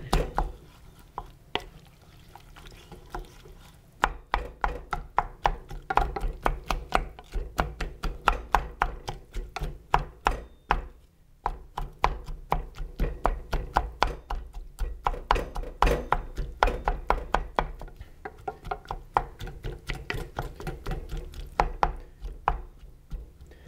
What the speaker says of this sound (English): you have to crush all the tomatoes up and get them hot